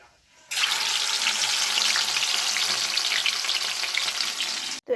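Fish rubbed with turmeric and salt drops into hot oil and fries with a sudden loud, dense sizzle that holds steady and close for several seconds before cutting off.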